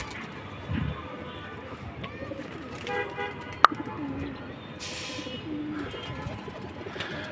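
Pigeons kept in a home loft coo softly in the background, with faint bird calls, a passing vehicle and a short sharp knock partway through, while a person talks quietly at times.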